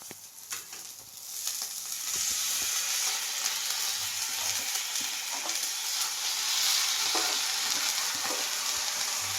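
Green chickpea vegetable hits a hot pan and fries with a loud, steady sizzle, broken by scattered clicks and scrapes of stirring.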